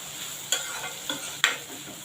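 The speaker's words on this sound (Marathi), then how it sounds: "कांदा आपण चांगला परतून घेतलेला आहे आपला कांदा बऱ्यापैकी मऊ झालेला आहे" Onion being sautéed until soft in a pan for a monsoon leafy vegetable dish, with a low continuous sizzle broken by three sharp spatula clicks and scrapes against the pan, close and without speech.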